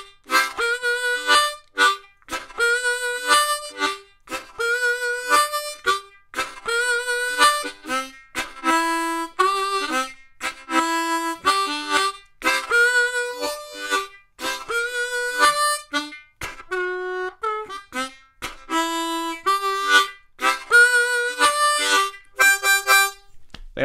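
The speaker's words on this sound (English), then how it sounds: "that rumba rhythm sounds something like this." Harmonica playing a rolling rumba blues groove, rhythmic chugging chords and short melodic phrases repeating steadily and loud throughout, with no voices.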